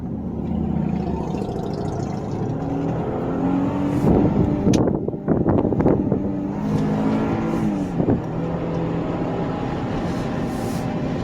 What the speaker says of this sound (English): Sport, second gear, hard downshift.